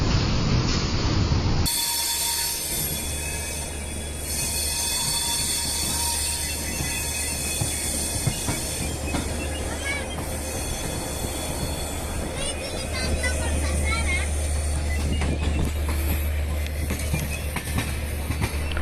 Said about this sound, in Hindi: नई दिल्ली रेलवे स्टेशन से धीरे धीरे आगे बढ़ती है